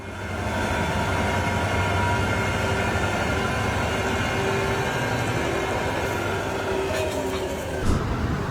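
A straining train on a railroad makes a loud, steady rumbling drone with a constant mechanical roar that barely changes and carries no pauses.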